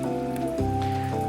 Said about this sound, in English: Dark storm clouds are gathering on the gray and foggy horizon, signaling the coming of heavy torrents of rain.